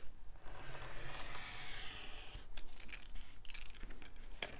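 Scissors snip and rustle through paper while fussy cutting flower fairy images for a junk journal, close soft shearing and crisp rapid cuts with no talk.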